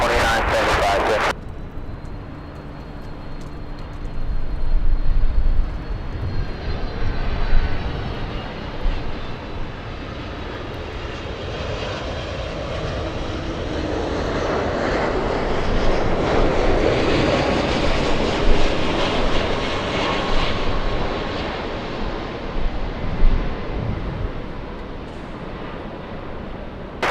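Airliner jet engines roar at LAX airport, a broad sustained rumble and whine that swells and fades as a big plane passes, with air traffic radio chatter over it.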